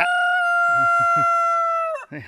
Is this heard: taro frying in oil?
no